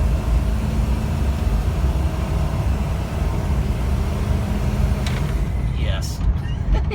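A 6L truck drives and accelerates, a loud steady low engine roar and road rumble throughout, with a voice speaking over it.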